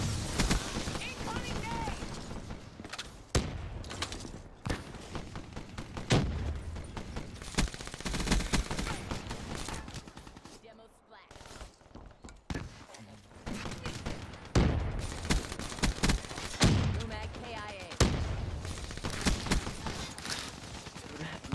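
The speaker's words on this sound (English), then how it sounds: "They're using shotguns" Repeated shotgun blasts and other gunfire in a Call of Duty Black Ops 3 Safeguard multiplayer match, loud overlapping bursts throughout with brief lulls, under a player talking.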